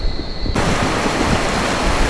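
Rough river water rushes through a remote canyon in Colombia, a loud, steady broadband roar that jumps up in level after a brief quieter start, with no talking.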